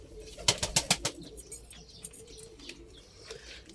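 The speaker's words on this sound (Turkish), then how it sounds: "Şimdi ben kuşları şöyle inceden bir göstereyim abi size." Pigeons being handled and shown off indoors give a quick run of sharp, close wing flaps, then fainter rustling and a few soft calls.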